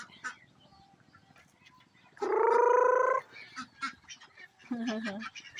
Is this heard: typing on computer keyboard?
no